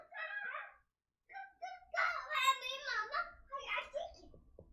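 A child imitates a chicken with vocal clucking and crowing sounds, several bursts close to the microphone separated by a short pause.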